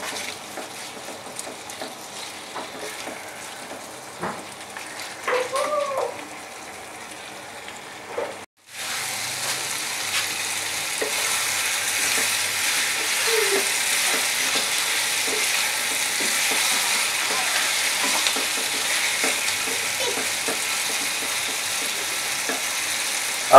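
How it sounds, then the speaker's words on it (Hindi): Chilli paneer being stir-fried and mixed in a pan, a steady sizzle and frying hiss with scraping stirs; a brief break partway, then continuous loud frying to the end, with no talking. "अब अच्छी तरह मिक्स कर लीजिए इसे।"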